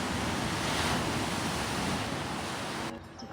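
Ocean surf at a campground beach in Carpinteria, California, a loud steady broadband roar of waves with some wind buffeting the microphone, cutting off sharply near the end.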